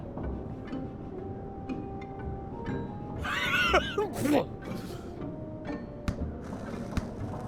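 A character in the video game The Night of the Rabbit sneezes, a single short burst at mid-clip over a busy layer of game music and ambience.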